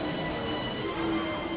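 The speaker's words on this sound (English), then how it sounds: "Suddenly, there's a wall of rain in front of the dragons." A sudden wall of rain comes down as a dense, steady hiss of heavy rainfall, loud and unbroken throughout.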